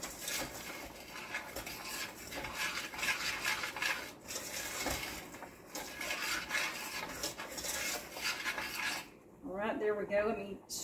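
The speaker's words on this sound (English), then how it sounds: "Scrape everything off of the spoon so that if there's any dry ingredients that haven't mixed in, I can get those mixed in." A spoon scrapes and rasps against a pot of old-fashioned fudge mixture being stirred, with steady scraping strokes close up that stop near the end, where a brief tonal sound rises alone.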